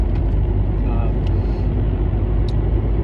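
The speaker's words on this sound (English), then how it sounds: "I'm driving to work right now." A car drives on the road to work, heard from inside the cabin as a steady, fairly loud road and engine drone that does not change much.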